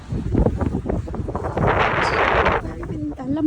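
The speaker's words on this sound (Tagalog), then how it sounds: "So, it's snowy and at the same time very windy." Strong wind gusts and buffets the microphone on a snowy day in Daegu, a rough rushing roar that builds in the middle while people talk over it.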